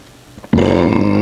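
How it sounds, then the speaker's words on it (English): A single loud, close burp during a meal of crispy, warm cake donuts, starting abruptly after a short quiet lead-in and holding as a sustained low, rough belch to the end. "Oh, let me burp."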